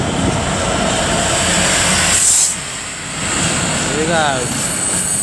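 A constant rumbling, hissing roar of a train arriving at Swindon station, Wiltshire, fills the scene, dipping briefly before resuming, with a short spoken remark near the start.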